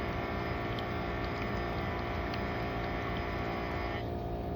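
A brushed RC car motor running during break-in, a steady loud whirring drone with a constant tonal whine that holds evenly, then drops slightly near the end.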